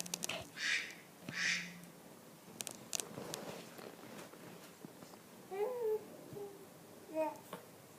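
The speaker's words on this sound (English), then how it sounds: "turn the duck off at the same time" A quacking toy duck in a home with a young child, its short electronic quacks sounding in a few separate bursts at low volume among clatter and faint household noise.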